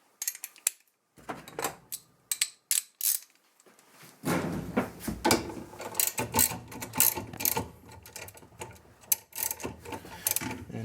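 A ratchet with an extension loosens a 7/16 bolt deep inside a washing machine agitator, giving bursts of rapid clicking ratchet strokes, close and moderately loud, with pauses between sets of turns.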